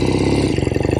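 A motorcycle with a chrome and red tank runs its engine, a loud, close, steady pulsing throb through the whole short stretch with no voices.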